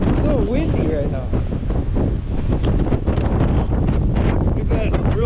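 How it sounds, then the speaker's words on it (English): Strong wind sweeps across a farm before the corn harvest, roaring and buffeting the microphone continuously, while a voice is faintly heard beneath the gusts. "It's so windy right now."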